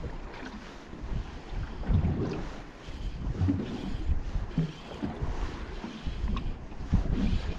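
Gusty wind blows beside a trout river, rumbling steadily against the microphone, with broadband rushing that swells and eases throughout and no talk.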